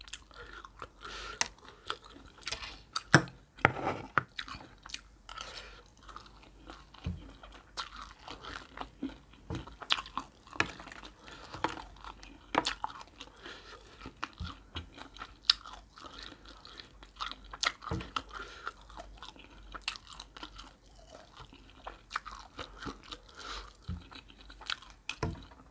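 Close, quiet chewing and crunching of a spicy horseshoe crab egg salad, with irregular bites and soft mouth sounds continuing throughout and no speech.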